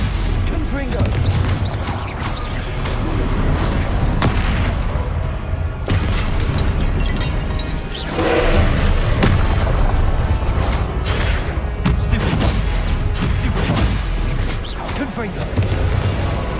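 Repeated spell blasts and booming impacts in the Hogwarts Legacy video game, a dense run of explosive bursts and crashes layered over game music and combat noise, with voices calling out spells throughout.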